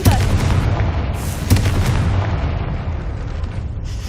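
A Confringo fire spell bursts into a booming explosion in Hogwarts Legacy near a gate: two loud, close blasts, one at the start and one midway, each trailing a rumbling roar.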